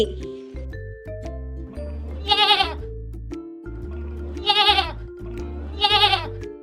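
An animated goat bleats three times at regular intervals, loud and close, over a simple low-pitched background melody in a children's animal-sounds cartoon.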